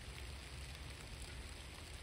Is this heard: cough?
no